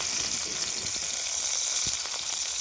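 Chopped onion fries in hot oil, a dense and steady sizzle up close with scattered soft pops and crackles, and no voice over it.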